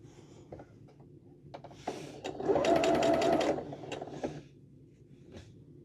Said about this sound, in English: we're going to take it to the sewing machine